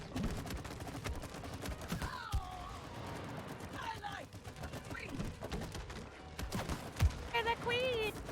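Rapid gunfire bursts from the co-op video game It Takes Two, crackling loudly and continuously over a busy game soundtrack with thumps, while players talk excitedly over the shooting.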